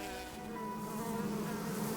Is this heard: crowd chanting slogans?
no